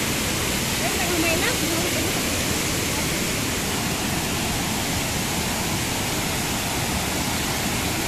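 Pangas Falls roars as a loud, continuous wash of rushing water close by, steady throughout, with a faint voice barely showing under the torrent.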